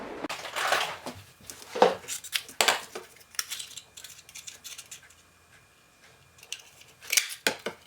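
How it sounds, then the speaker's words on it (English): Scissors snipping paper pieces for a handmade Stampin Up card, several crisp close cuts in irregular bursts with pauses between, plus light handling clatter of tools on a table. "So I'm gonna go ahead and get my scissors and cut that."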